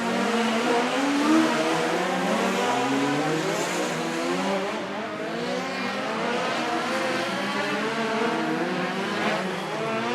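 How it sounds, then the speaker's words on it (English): Race cars roar through a green-flag start of a Bakken Shootout feature race, several engines revving together in a loud, continuous, layered drone with rising and falling pitches as the field accelerates past. "Looks like Robbie's holding the green flag."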